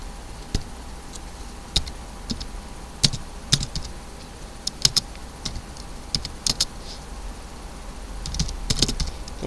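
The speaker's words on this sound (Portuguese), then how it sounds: "Então aqui eu estou digitando" Quick, uneven keystrokes on a computer keyboard as someone types commands into a terminal, close and crisp over a quiet room hum, with short bursts and pauses.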